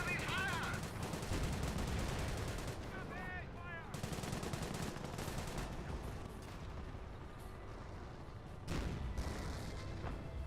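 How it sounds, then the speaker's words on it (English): Units firing guns in the Company of Heroes World War II strategy game, with dense continuous bursts of rifle and machine-gun fire, occasional booms and whistling shells, all sustained throughout at a fairly loud level. "War ones go around firing away."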